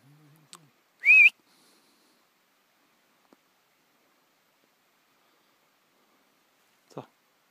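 A person whistles a single short rising note to call an animal outdoors, brief and fairly near, followed by long quiet with a faint distant knock and a later soft rustle.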